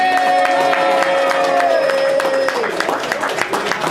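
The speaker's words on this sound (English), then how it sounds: "let's give some applause to Winchester 572 for setting up this up with a projector" Live audience applause and cheering fill a bar during a podcast interview recorded in front of a crowd, starting faintly under a speaking voice and swelling into dense, close clapping for the last second and a half.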